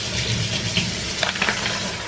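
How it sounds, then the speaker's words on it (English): Hot water gushes steadily from a tap into a sink, a close, continuous splashing rush with small bubbling spurts. "Turn on your hot water."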